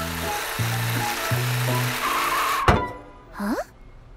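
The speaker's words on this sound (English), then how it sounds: "I can hear the bus," A cartoon bus engine drones and shifts tone in stepped surges, ending in a sharp zap and a quick rising whoosh, loud and close with no talking.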